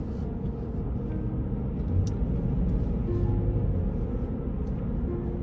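Steady, close interior rumble of a car cruising through downtown Goderich, Ontario, past the local mall, a continuous low drone with faint passing-traffic swells and no talk.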